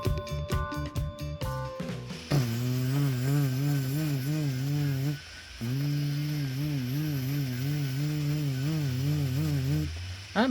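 A Dremel rotary tool porting a Chevy 1.4L Ecotec intake manifold whines loudly and steadily at high pitch, with a brief dip in speed partway through and short taps before it starts.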